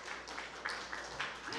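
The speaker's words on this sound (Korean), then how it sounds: "큰 박수 부탁드립니다." Brief, dense applause from an audience at an education report meeting, a continuous wash of clapping with no pauses.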